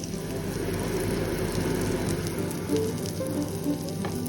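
Delicate kebabs slowly frying in oil give a steady, close, moderate sizzle with a soft crackle and a low hum beneath, without pauses or talk.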